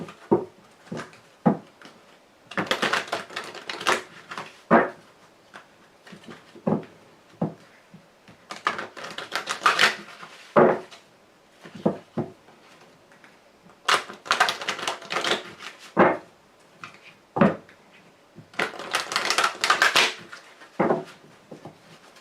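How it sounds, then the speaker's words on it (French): A deck of Lenormand fortune-telling cards is shuffled and handled up close, producing repeated bursts of crisp riffling and slapping clicks in irregular rhythm, with quiet gaps between the bursts. "je vais y répondre avec le grand jeu de Mademoiselle Lenormand."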